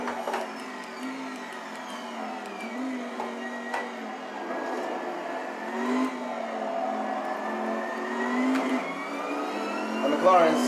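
A McLaren GT3 race car in a racing video game at Spa, its engine droning steadily with rising and falling pitch as it goes for an overtake, while a voice talks over it throughout.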